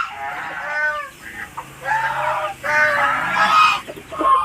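Hens clucking and squawking in bursts at close range, a mother hen with chicks, with some honking calls and brief pauses between them.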